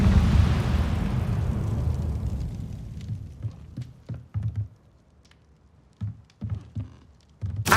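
Incendio fire spell burst in Hogwarts Legacy, a loud fiery whoosh that fades over about three seconds, followed by scattered short thumps and pops with quiet gaps between.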